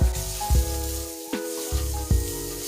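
Food for a stuffed acorn squash dish sizzles in a pan while being stirred, with loud bursts of hiss each time the spoon turns it and a steady crackle between, close and without talk.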